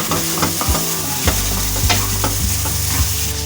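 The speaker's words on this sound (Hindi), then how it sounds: "इसको तब तक भूनेंगे जब तक ये अलग अलग जो है वो सूजी नहीं हो जाती।" Semolina roasts in a pan for suji halwa, scraped and stirred in quick rhythmic strokes that thump and grind against the metal over a light sizzle, close and steady without talk.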